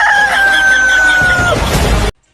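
A rooster crows once, loud and close, a long strained call that drops in pitch at the end, followed by a brief burst of rough noise before the sound cuts off.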